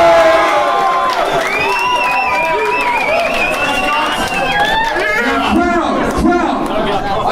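A loud, dense crowd roars with overlapping shouts and jeers, individual voices rising and falling above a constant wash of chatter.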